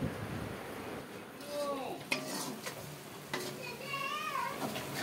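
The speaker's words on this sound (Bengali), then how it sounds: "চিকেনের জন্য পেঁয়াজ তেলে দিয়ে দিল" Onions frying in hot oil in a pot for chicken pulao, with a steady sizzle, stirring and utensil scrapes, and a few brief voices in the background.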